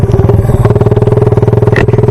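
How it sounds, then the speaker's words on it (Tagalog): A Yamaha R150 motorcycle engine, loud and close, roars with a steady rapid pulsing while it is power shifted, shifting gears without letting the revs drop. "Tingnan nyo yung pagkakaiba ng power shifting sa normal shifting, ano, lalong lalo na sa RPM at sa tunog ng makina natin."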